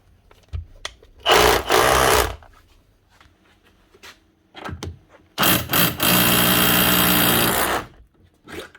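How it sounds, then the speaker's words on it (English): A Milwaukee hammer drill, set to hammer-only mode after repair, runs in two bursts, a short one and then a longer sustained run of several seconds, with quieter knocks and handling noises in between. "make sure she's actually hammering now"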